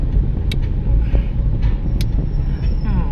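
2015 Hyundai Accent car driving, a steady low road and engine rumble heard from inside the cabin, with a few brief sharp clicks or knocks.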